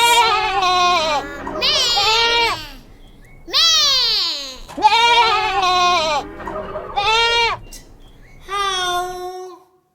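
A voice imitates a goat bleating, several loud wavering bleats in bursts separated by short pauses, close and clear.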